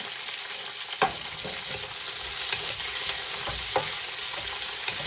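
Plenty of onions sizzle steadily in a pan while being sautéed for pork, a constant frying hiss broken by occasional scraping stirs, heard close with no talking.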